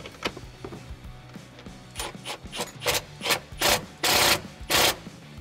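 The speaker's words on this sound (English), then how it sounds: "we're gonna go ahead and tighten this bolt" A seat harness bolt is tightened in a 2005-2017 Mustang with a hand ratchet, giving a run of short rasping clicks that grow louder and longer toward the end, close and alone.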